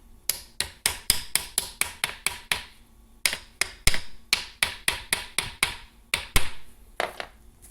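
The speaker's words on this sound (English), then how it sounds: "just taking this part here and then just hammering it back on" Sharp metallic hammer blows strike in quick steady runs, close and loud, with a brief pause between two series, hammering a part back onto a Harbor Freight Portland pressure washer.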